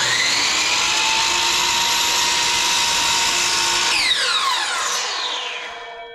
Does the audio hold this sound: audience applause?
no